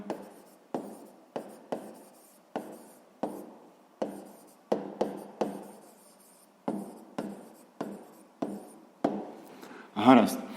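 Pen or chalk writing out a sixth-grade math problem: a string of about fifteen quick, distinct strokes and taps at irregular spacing, close and crisp, ending in a brief louder rustle.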